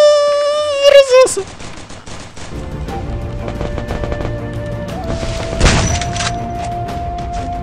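Gunfire in the mobile battle royale game Free Fire sounds in bursts of sharp shots and booms after a brief musical chime, mixed with game effects and a player's excited talk.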